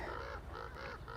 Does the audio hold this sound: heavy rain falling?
no